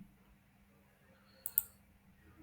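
Two quick computer mouse clicks, close and sharp, while moving through Moodle settings, set against a quiet, faintly humming room.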